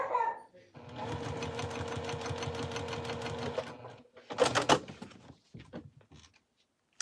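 A Juki 2010q sewing machine stitches through a single layer of pearl vinyl with Gutermann thread, a close, steady rapid whirring chatter for a few seconds, followed by handling knocks and clatter, with talking around it.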